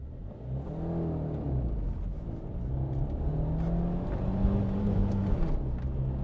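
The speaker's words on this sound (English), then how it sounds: "as a city commuter, full power run in a Nano" A Tata Nano's small engine revs hard through a full-power run, a steady rising drone with harmonic sweeps climbing and resetting at the gear changes, loud and close throughout with no talking.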